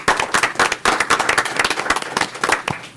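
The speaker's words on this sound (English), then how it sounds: "Let's give them a round of applause." Audience applause at a city council meeting in Brawley, a few seconds of steady, moderately loud clapping from a small crowd with uneven, crackling hand claps throughout.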